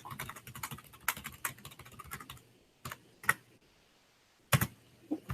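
Someone types a password on a computer keyboard in quick bursts of soft clicking keystrokes, pausing between groups of taps, close and fairly quiet with no talking.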